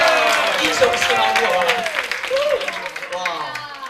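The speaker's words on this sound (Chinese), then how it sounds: "来，掌声！" A high school audience at a campus concert tour applauds and cheers in a steady, dense wash of clapping while voices call out over it.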